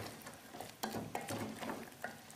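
Butter, onions and parsley cooking in a pan, a quiet low sizzle with light stirring scrapes and soft clicks of a utensil at intervals.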